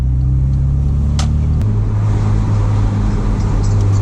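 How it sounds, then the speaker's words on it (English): Inside a Porsche 987 Boxster S at low speed, the exhaust gives a loud, steady low drone that shifts pitch as the revs change, with the roof up on a country road. "just due to how noisy this exhaust is at low speeds"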